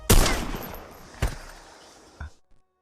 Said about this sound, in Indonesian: Akhirnya dengan penuh air mata, Kabir menembak mati Luthra.